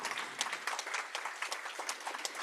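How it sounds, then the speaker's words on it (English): Applause from the audience at a university heritage month celebration, many hands clapping in a continuous, fairly soft patter that fills the room without talk. "So I think you deserve a round of applause."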